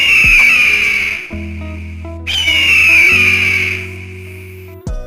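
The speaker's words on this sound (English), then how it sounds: "Eagle." An eagle gives two long, high, piercing screeching cries, loud and close, each trailing off, with a sharp chirp near the end.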